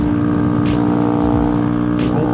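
Motorcycle engine droning steadily while riding, a constant loud hum with a strong tonal whine and rushing wind buffeting the microphone, with a few brief gusts swelling through.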